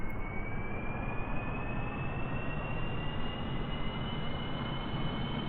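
Aircraft engine roaring steadily during takeoff in the video game Kerbal Space Program, a loud continuous broadband drone with a faint rising whine, no talk.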